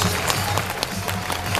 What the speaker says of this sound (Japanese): スターマンに拍手。